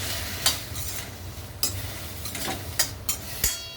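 Broccoli stir-fried with garlic in a pan gives a steady low sizzle, broken by several sharp scraping stirs of a spatula at irregular intervals, close and fairly quiet, with no talk.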